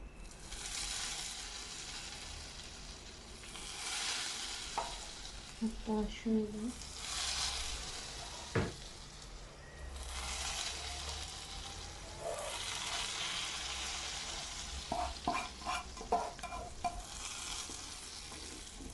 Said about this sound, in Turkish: Nanesini yaktım. Şimdi cosur cosur ses geliyor ya.